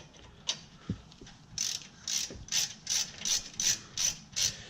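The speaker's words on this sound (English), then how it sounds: "so I'm gonna have to use the ratchet" Ratchet clicking in quick repeated bursts, about eight sharp pawl runs, as it turns a Loctite-crusted brake bolt on a 1972 Ford; close and fairly quiet, with a few dull knocks early on.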